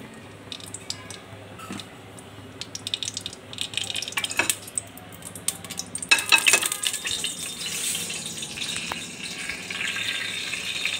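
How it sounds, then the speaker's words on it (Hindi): Cow ghee sizzling and crackling in hot oil in a pan while cooking matar paneer pulao, with irregular pops and spits that grow busier midway, set over a low steady hiss. "घी इसमें हॉट हो रहा है, घी हॉट हो चुका है।"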